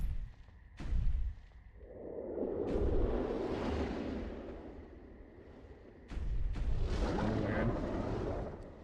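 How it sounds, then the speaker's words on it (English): Explosive rounds fire in the shooter Blood West, each sharp report followed by a rolling boom that swells and fades over a few seconds, with two distinct shot-and-explosion sequences and no talking. "I'm gonna use the explosive rounds first."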